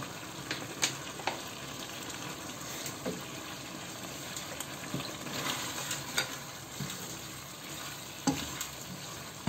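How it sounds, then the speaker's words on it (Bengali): Egg white frying in a pan during home breakfast cooking, a steady quiet sizzle with stirring scrapes and small crackles throughout, no voices. "এবার আমি এই যে একটা ডিমের সাদা অংশ দিয়ে দেব"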